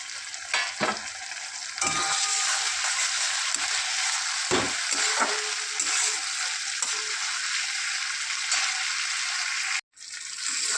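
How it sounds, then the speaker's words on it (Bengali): Ginger garlic paste sizzling and frying with melted tomato in a pan, with steady loud crackling and occasional stirring scrapes throughout, during a fish-head mixed vegetable curry. "এরপর আমি এতে আদা রসুনের পেস্ট দিয়ে দেব।"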